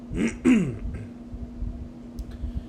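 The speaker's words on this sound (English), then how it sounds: "Sorry about the cough" Two quick coughs from someone close by, followed by near silence over a faint steady electrical hum.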